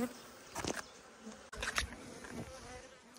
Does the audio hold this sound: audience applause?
no